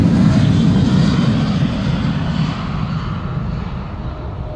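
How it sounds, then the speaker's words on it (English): Boeing 737-700 jet airliner departing Amsterdam Schiphol, a loud, close, steady low roar of engines that slowly eases in level across the whole span. "Next up, a loud airplane."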